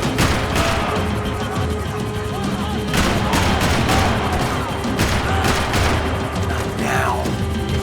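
Intense shootout in Max Payne 3 during a chase, loud overlapping gunshots and bursts with booming impacts, sustained throughout, with urgent voices shouting amid the firing.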